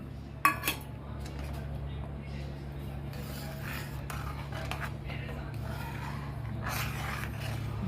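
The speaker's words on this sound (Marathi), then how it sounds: "असं हळूहळू हलवून घेऊया" A spoon stirs vermicelli kheer in a pot, giving soft metallic scrapes and clinks over a steady low hum, with one sharper clink near the start.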